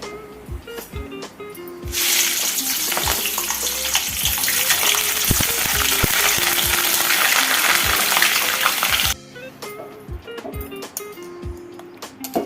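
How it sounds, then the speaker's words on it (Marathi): Green chillies frying in hot oil for batata bhaji at a snack stall, a loud, steady bubbling sizzle that starts after a couple of seconds and runs continuously, then cuts back to quieter kitchen clatter near the end. "पहिल्यांदा मी मिरची तळून घेऊया।"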